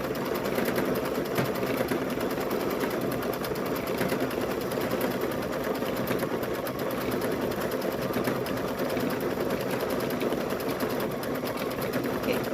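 A sewing machine joins cut pieces of a stuffed bear with a steady, even whir that runs throughout, under a person talking.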